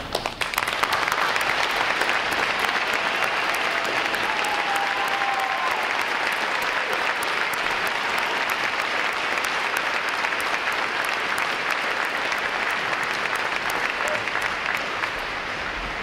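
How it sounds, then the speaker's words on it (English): A large crowd gives sustained, even applause for veterans standing at a U.S. Navy Recruit Training Command graduation, a loud unbroken roar of clapping across the whole stretch. "Will all our veterans please rise and we'll give you a round of applause"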